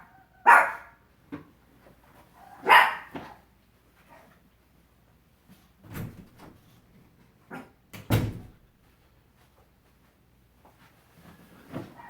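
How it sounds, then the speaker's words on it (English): Pet dogs barking protectively indoors after a knock at the door: a few sharp, separated barks in irregular bursts, moderately close, with quiet gaps between them. "My dogs are very protective."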